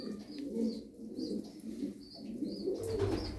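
Tumbler pigeons coo softly in a loft, low throaty murmurs repeating close by, with a few faint chirps and a brief rustle of wings near the end, no one speaking.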